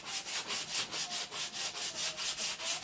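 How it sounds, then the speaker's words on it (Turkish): A sanding block rubs back and forth across the wooden hull of a model ship in a steady, even rhythm of about a dozen close strokes, with no talk. "Şu şekilde daha geniş yüzeyleri daha eşit şekilde zımparalayabilirsiniz."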